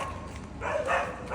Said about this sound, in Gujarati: કૂતરા બોલે છે અમને જોઈને